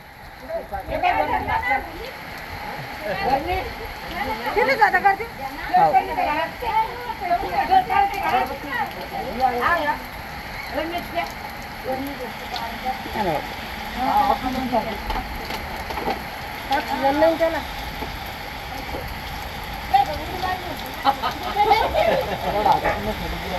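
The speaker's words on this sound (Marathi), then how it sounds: "पूर्ण लय डेंजर पाऊस चालू आहे रात्री" Heavy rain at night patters and hisses steadily throughout while people talk over it.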